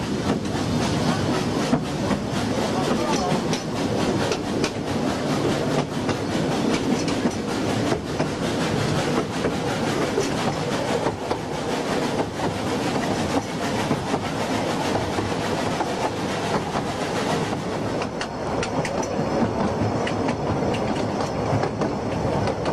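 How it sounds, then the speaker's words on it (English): A Festiniog Railway train runs through the Vale of Festiniog in Wales, with a continuous clattering rumble of wheels on rails and rolling carriages, steady and close throughout with no voices over it. "The train carries thousands of holidaymakers through some of the finest scenery in Wales."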